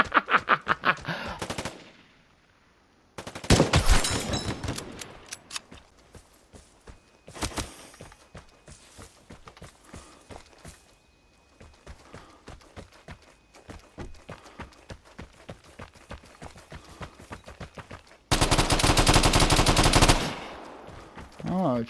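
Video game gunfire during a drop shot, scattered bursts of loud automatic shots with louder sustained volleys near the start and end, quieter clicks and footsteps between, and some voices.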